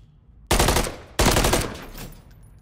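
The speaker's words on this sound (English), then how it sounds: "Damn, I just got shot in the back" Two loud, close bursts of automatic gunfire in a video game, each cutting in sharply and decaying, about half a second apart, with no talk over them.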